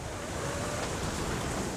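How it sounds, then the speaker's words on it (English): Steady outdoor wind roars and buffets the microphone in a continuous, broadband rush, fairly faint, with no voices. "aside from being particularly windy today"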